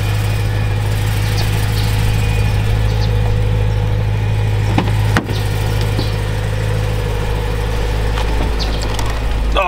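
A 2008 BMW E92 M3 with a manual gearbox drives along, heard from inside the car as a steady low engine drone with one brief thump midway.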